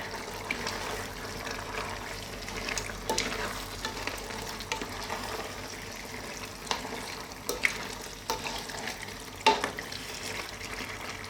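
Penne pasta sizzles and fries in a pan for a chicken tomato dish, with a soft continuous crackle and occasional scraping stirs and clacks of a utensil, fairly quiet and with no talking.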